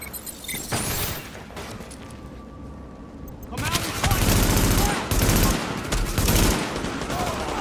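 Gunfire in the video game The Division, with dense bursts of rapid automatic shots and a brief quieter lull before heavy sustained firing resumes, loud and continuous, mixed with crashes and a voice talking over it.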